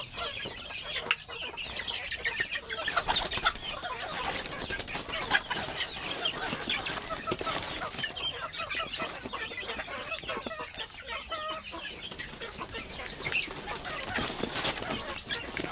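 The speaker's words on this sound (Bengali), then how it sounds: "তো চলুন এবার আমি আপনাদেরকে আমার মুরগিগুলো খাওয়ানো দেখাই।" A flock of native village chickens clucks busily while being fed tree leaves, with wings flapping now and then. The chatter is steady and close by, with little talk.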